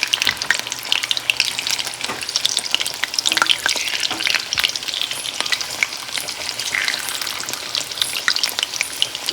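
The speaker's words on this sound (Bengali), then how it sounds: "এক এক করে আমি কাশ্মীরি পনিরগুলো ভাজা করে নেব" Small pieces of Kashmiri paneer fry in hot oil, a dense steady sizzle with crackling pops throughout, close and continuous with no talk.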